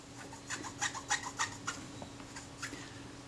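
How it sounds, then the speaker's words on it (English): A cloth soaked in acetone rubs lacquer off a part of a Kodak Retinette IIB camera, making a string of short, quiet scratchy strokes in an irregular rhythm, close up and without speech. "I'll just use a bit of acetone, see if I can get rid of the traces of that lacquer that's been used in here"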